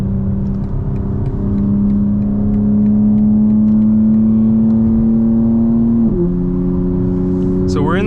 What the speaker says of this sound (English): we're in M1, the exhaust burbles are on.